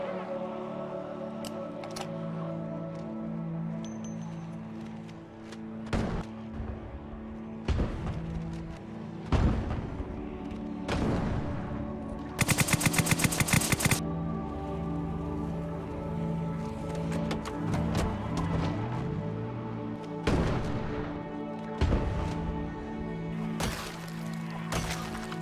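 Grenade launcher blasts in the zombie survival game Project Zomboid, with several sharp booming explosions scattered over a droning game background and a rapid rattling burst midway. Nobody speaks.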